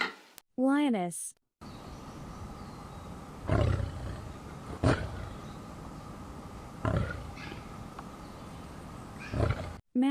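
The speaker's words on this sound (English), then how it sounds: "Lioness." After a brief voice at the start, a lioness gives several separate rumbling roars and grunts spread across a low, steady background, each burst short and fairly close.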